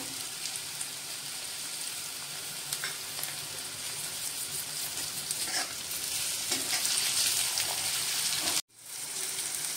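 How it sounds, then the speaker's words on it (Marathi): Tomato added to hot oil with green chilli and curry leaves for a vermicelli dish, hissing in a dense, steady sizzle heard close up, with a few faint spoon taps before a sudden brief cut near the end. "हे भाजून झाल्यानंतर मी आता त्याच्यामध्ये टाकते टोमॅटो"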